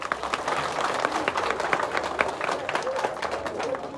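A crowd at a presidential commissioning event in Kono District, Sierra Leone applauds steadily, a dense wash of clapping and crowd murmur that holds at even loudness throughout.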